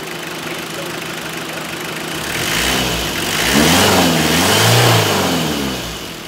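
A Toyota Corolla 2.0D (CE120) diesel engine, freshly overhauled, runs close to the mic. It idles steadily, then revs up in a few rising, wavering surges with a knocking diesel rumble, and no talk over it.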